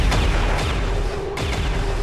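Rapid bursts of gunfire from the turn-based tactics game XCOM 2, repeated sharp cracks over a dense, continuous battle din with a brief dip near the middle.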